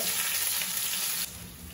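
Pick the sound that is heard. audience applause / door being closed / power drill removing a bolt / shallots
shallots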